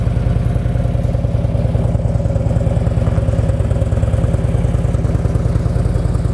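A Harley-Davidson Ultra Classic motorcycle engine idles steadily up close, a loud, even low throb with rapid regular pulses throughout and no voices.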